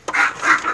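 A pet dog gives a short vocal outburst indoors, two or three close, fairly loud yelping or whining calls in quick succession with no speech.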